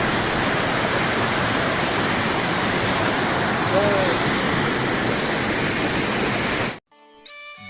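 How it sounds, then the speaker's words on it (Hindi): A mountain waterfall near Gorsam gompa roars as a steady, loud, broadband rush of falling water for several seconds, then cuts off abruptly. "ये सुंदर झरना ये गोम्पा का क्या सुंदर झरना है ये"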